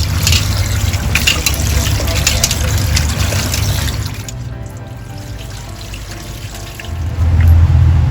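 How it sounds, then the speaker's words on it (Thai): Water pours and splashes steadily for several seconds, eases off, then surges again as pork fat is rinsed in a container. "แล้วก็จะเทออก เทน้ำออกนะคะ แล้วก็ล้างอีกน้ำหนึ่งค่ะ"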